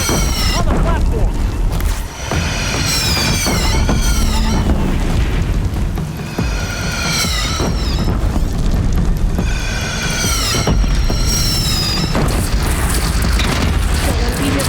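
Repeated deep cannon booms in the video game Horizon Zero Dawn during a battle at the city of Meridian, heavy blasts over constant battle noise, with voices talking and shouting throughout.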